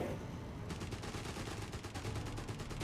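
Rapid automatic gunfire from the Company of Heroes 3 strategy game, including a Sten gun, rattles in dense bursts of quick repeated shots that intensify partway through, fairly distant and with no voices.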